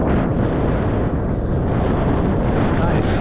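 Strong coastal wind near Dungeness buffets the microphone in a loud, steady roar that runs the whole time, broad and rumbling with no breaks.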